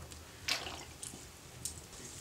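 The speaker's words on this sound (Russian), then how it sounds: "Смачиваем водой шерсть." Soapy water is sprinkled onto laid-out felting wool in a few soft wet splashes and drips, faint and close, spaced across a quiet background without talk.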